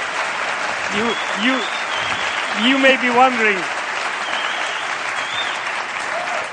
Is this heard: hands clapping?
yes